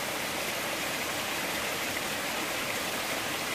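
A mountain stream at a water source near a trail shelter on the Appalachian Trail, a steady close rush and babble of flowing water with no voices.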